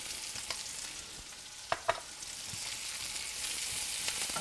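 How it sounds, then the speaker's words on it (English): Onions and garlic frying in oil in a pan for a stir fry give a soft continuous sizzle, with two sharp pops close together near the middle and a few fainter crackles, no talking. "And when you hear that popping, that's the liquid that's coming out of the onions. That kind of pops with the oil."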